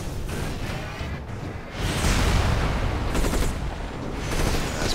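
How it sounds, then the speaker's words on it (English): Combat attack on an artillery unit in the strategy game Civilization: Beyond Earth: dense, continuous gunfire-like crackle and booming rumble, swelling louder from about two seconds on, with no talking. "Now they're attacking my artillery."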